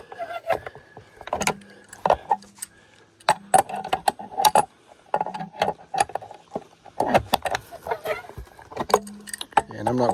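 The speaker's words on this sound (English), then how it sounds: "I just got an adjustable wrench because I did not have the size of socket to be able to do it with" Adjustable wrench working a large bolt on a Pentair pool filter, giving sharp metallic clinks and clanks in an irregular series, close by, with a voice talking between them.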